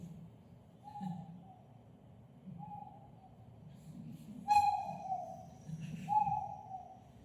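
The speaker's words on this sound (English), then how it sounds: "They're just cute little birds, but even better, listen to the song." A bird in western Mexico repeats a soft two-note hooting call, remembered as "No Hope," several times at a moderate distance, with a brief sharper chirp partway through against a quiet background.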